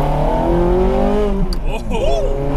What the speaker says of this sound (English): it's a Ferrari 430 Scuderia with a 6-speed manual conversion